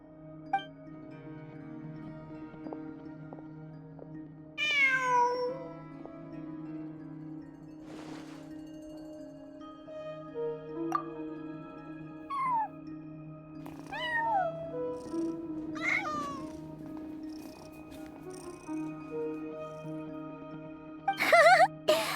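A cat in the video game Genshin Impact gives several separate meows, some rising and some falling, spread across a quiet stretch over a steady low tonal hum, with a louder cry near the end.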